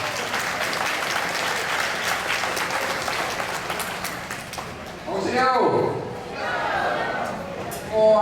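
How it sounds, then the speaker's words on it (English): A gathered crowd at a picnic event applauds, welcoming the Chief of the Cherokee Nation with dense, continuous clapping. A voice cuts in briefly over it, and the applause carries on to the end. "Let's give him a round of applause."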